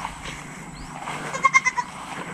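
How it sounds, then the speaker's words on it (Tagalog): A goat on a farm bleats in a quick string of four or five short calls, close and clear over a low outdoor background, with no one talking. "Ang kain naman dito nga sa kambing, hindi naninira ng saging."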